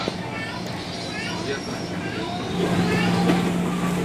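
A commuter train pulls into Manggarai station, with steady rumbling rolling noise and a rising hum near the end while people talk over it.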